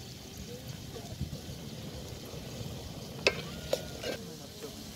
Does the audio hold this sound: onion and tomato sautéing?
yes